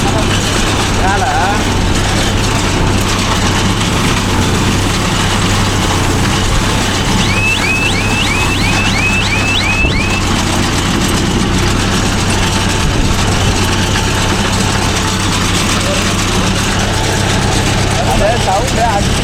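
The engine of a Mahindra Yuvo Tech Plus 585 4WD tractor runs at a steady, loud, low idle throughout, with voices talking over it.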